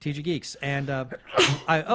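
A person sneezes once, a sharp burst in the middle of casual podcast conversation, with people talking before and after it.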